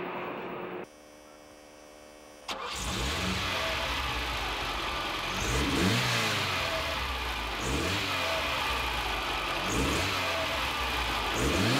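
Ferrari 308GTB with a 90-degree V8 DOHC engine of 2926 cc, a loud close engine that starts up after a brief electrical whine, then revs repeatedly in rising and falling sweeps over a steady idle.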